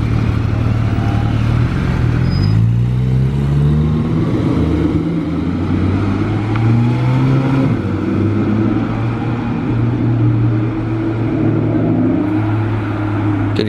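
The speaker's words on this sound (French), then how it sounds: "Et jolie DBS volante." An Aston Martin DBS Volante passes by on the streets of Monaco, its engine droning loud and close with a pitch that rises and falls as it drives through, no voices over it.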